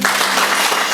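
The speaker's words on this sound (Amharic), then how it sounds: "ለአምላካችን ለእግዚአብሔር ሞቅ ያለ ጭብጨባ ስጡ" Warm applause from a gathered congregation at a church dedication of a home for the needy, a dense steady clatter of clapping hands filling the whole moment without voices.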